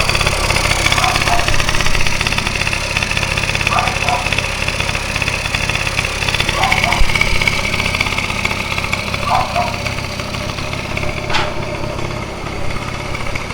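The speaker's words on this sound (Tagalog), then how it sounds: "At tahimik yung makina." Honda Dio scooter idling with a steady, even engine hum close by, continuous and unchanging, with faint intermittent voices in the background.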